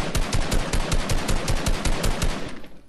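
Rapid automatic gunfire from a bot in Fortnite on PS4, a steady loud stream of shots for nearly three seconds before trailing off, with no talking over it.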